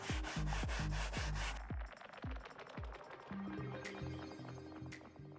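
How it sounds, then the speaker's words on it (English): A stiff-bristled brush scrubs a car's textured leather seat with leather cleaner, making rapid, loud, raspy strokes for about a second and a half before the scrubbing fades under tonal music. "we're using the bristles of the brush to make sure that we're extracting all the dirt and grime"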